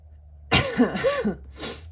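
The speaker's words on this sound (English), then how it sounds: "This cough, man." A person coughs in a quick burst of harsh hacks, then gives a second shorter cough after a brief pause, close to the microphone.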